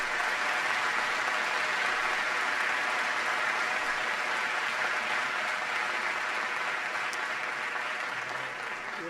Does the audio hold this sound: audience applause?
yes